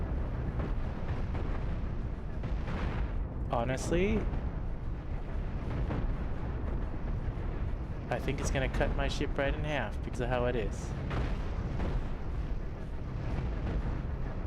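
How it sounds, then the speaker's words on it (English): Ship cannons firing in the space game Cosmoteer, a dense barrage of booming shots and rumbling impacts with bright whistling bursts, running continuously under someone talking throughout. "Got all these cannons firing at it."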